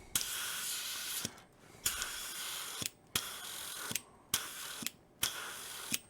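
An airbrush sprays paint onto a model starship in short repeated bursts of hiss separated by brief silences, with a small click at the start and end of each burst.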